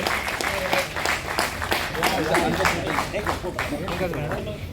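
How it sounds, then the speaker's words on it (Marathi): Loud, steady clapping from an audience at a public talk in Dombivli, continuous throughout with a busy, dense texture and some murmuring voices underneath. "छान जोरदार टाळ्या यजमानांसाठी सुद्धा"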